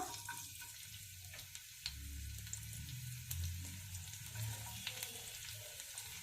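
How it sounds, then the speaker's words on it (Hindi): Garlic fries in hot oil for cabbage Manchurian, a soft, even sizzle with occasional small pops and clicks, fairly quiet and with no talking. "तेल गरम हेलानी, तो एबे देई दबा रसुण"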